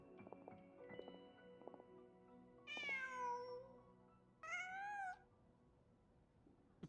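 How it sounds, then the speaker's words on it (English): A cat in the Genshin Impact video game meows twice, two distinct clear cries over quiet game background with light hoof-like clip-clop footsteps before them. "Surprised by a cat?"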